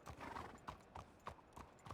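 Horse hooves clip-clopping in a Wild West roleplay video game, an even steady rhythm of hoof falls, close and distinct.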